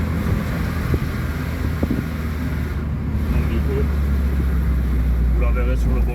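A Peugeot 206 CC convertible with a 2-litre 16-valve 138 hp engine is driven with the top down, giving a steady low engine rumble mixed with constant wind buffeting across the microphone.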